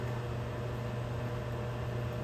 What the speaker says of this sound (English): I gotta put my fan on